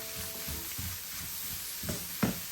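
Vegetables stir-fry in a pan for fried-rice-style noodles, a soft continuous sizzle broken by several short scraping and tossing knocks, with a couple of louder clatters near the end.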